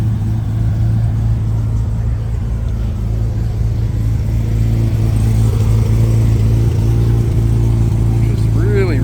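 A supercharged LS V8 swapped into a Honda S2000 at a car meet, idling with a deep, steady low rumble that stays loud and close throughout, with crowd noise in the background.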